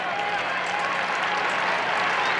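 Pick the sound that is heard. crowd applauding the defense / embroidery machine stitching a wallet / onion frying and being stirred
crowd applauding the defense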